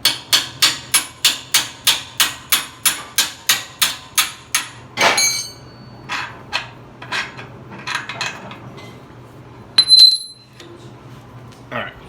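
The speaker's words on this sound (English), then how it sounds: "Check out this hammer." A hammer strikes steadily about a dozen times in even rhythm at a building job, loud and close, followed by scattered clinks, knocks and shuffling handling sounds.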